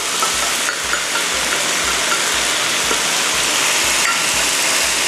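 Loud, steady sizzling of glass noodles and tofu skin stir-frying in a pan as oyster sauce goes in, with a regular scraping stir about twice a second throughout, no voices.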